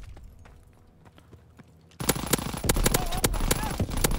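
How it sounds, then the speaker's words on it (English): Rapid automatic gunfire from the Blyskawica submachine gun in Call of Duty WWII bursts in halfway through, a dense loud rattle of shots over quieter game ambience and faint earlier pops. "This SMG doesn't have any recoil, which is pretty insane, actually."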